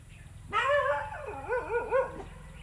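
Dogs on a rural property barking at a passing dog, a sudden burst of loud, close barks and yelping howls that rise and fall for about two seconds, no talking.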